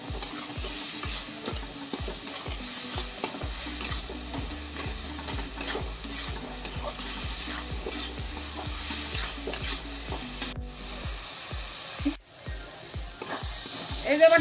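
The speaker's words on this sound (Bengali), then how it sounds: "আমি এটা ভালো করে ফ্রাই করে নেবো" Tomato, mango and spices with turmeric frying in a pan: continuous sizzle under regular, rhythmic stirring scrapes, close and moderate in level, no voices.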